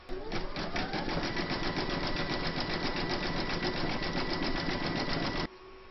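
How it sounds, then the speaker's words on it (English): A sewing machine runs steadily, stitching a round of a large Celtic quilt topper, its rapid even needle clatter loud and close for about five seconds before stopping abruptly. "Then you're going to pop this into your machine and stitch round number four."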